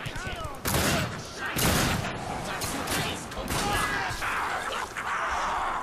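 Rapid bursts of gunfire in The Darkness II crackle and boom in a dense, busy mix, with a voice speaking briefly over the shooting.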